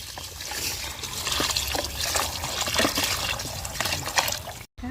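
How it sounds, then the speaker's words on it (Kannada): Water pours steadily into a hot pan of cooked masala for mushroom biryani, a continuous splashing trickle, close and moderately loud. "ಆಮೇಲೆ ನೀರು ಹಾಕ್ಕೊಬೇಕು"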